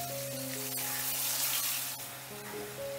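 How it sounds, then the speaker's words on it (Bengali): Chopped onion frying in oil, a steady soft sizzle throughout, faint and even, with a background tonal hum and no talking. "পেঁয়াজটাও বেশ হালকা করে লাল লাল করে ভেজে নিতে হবে।"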